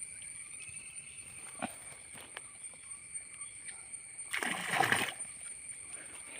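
Baby wallago catfish are let go into a flooded village canal, making one short, close splash of water midway through against a faint, steady background hiss.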